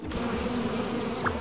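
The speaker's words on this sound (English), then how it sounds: "Hey there, bees! Come and catch me if you can!" A swarm of cartoon bees drones in a continuous close buzz in an animated forest scene, a steady insect whine holding for about a second and a half.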